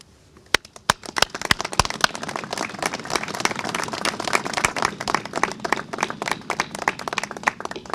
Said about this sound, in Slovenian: Oni in vsi mi pa si zaslužimo aplavz.